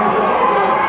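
Spectators at a 1996 midget (youth) football senior game between Brownsville Area and Laurel Highlands roar and shout in a loud, sustained burst of crowd cheering close to the microphone.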